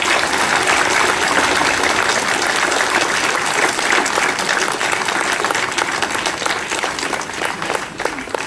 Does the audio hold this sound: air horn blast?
no